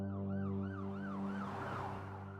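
An ambulance siren wails in a steady rising and falling pattern, loud and close throughout, with a low engine drone beneath it and no voices.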